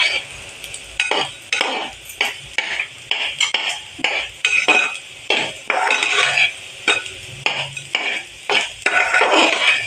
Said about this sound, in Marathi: तांदूळ चांगले भाजून घेतले की भात छान होतो, मोकळा असा होतो